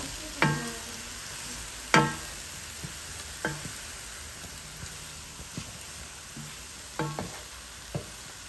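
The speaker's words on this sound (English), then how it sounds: "Now I'm going to start cooking my Luffa grounds, and we'll add those in, and then I will stir them well" Luffa stir-frying in a pan: soft background sizzle broken by several sharp spatula clacks and scrapes at irregular intervals, fairly quiet overall with no voices.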